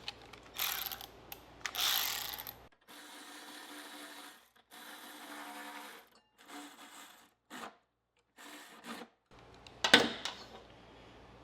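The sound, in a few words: ratchet turning an 8mm socket on a mower deck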